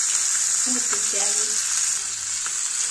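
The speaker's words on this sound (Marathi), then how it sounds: "आता अजून 5 मिनिटं फ्राय होऊ द्यायचे, मग मस्त होते" Chilapi (tilapia) fish frying in a pan, an even, close hiss of hot oil that runs throughout with a few faint background sounds.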